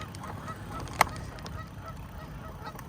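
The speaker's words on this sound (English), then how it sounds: "Hey, geese." A single short goose honk rings out once amid steady outdoor background noise, fairly distant and brief, heard during an e-bike ride through a park.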